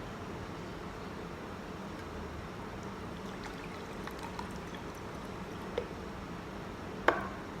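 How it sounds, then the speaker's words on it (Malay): Mineral water pours steadily into a glass, a soft continuous trickling stream with a couple of faint clinks near the end, with no talking. "Saya letak air mineral."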